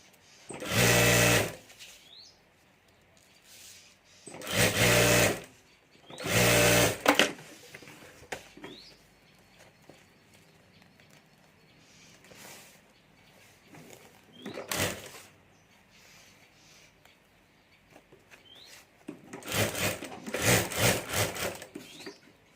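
A home sewing machine stitches a strip onto a party handbag in several short, loud bursts of whirring stitching, separated by quiet pauses with soft handling and rubbing sounds.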